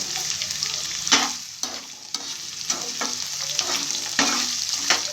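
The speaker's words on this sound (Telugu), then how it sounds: "బాగా అన్నీ కలబెట్టుకోవాలి ఎర్రగడ్డలు వేగినాయండి" Onions fry in a pan for a chicken cornflour fry, sizzling steadily while a spoon stirs and scrapes in repeated strokes roughly every second. Close and moderately loud, with no voices.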